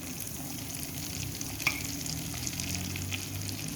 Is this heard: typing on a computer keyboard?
no